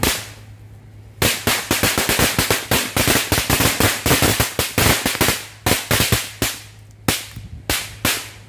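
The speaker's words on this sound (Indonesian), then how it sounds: "selanjutnya kita cobain petasan korek satu gepok." A bundle of matchstick firecrackers goes off in a rapid, loud string of sharp cracks lasting several seconds, with brief gaps and a steady low hum underneath, set off during a festive holiday celebration.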